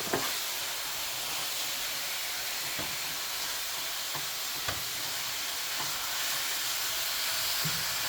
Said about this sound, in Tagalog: The chicken meat should go in. Saute your chicken.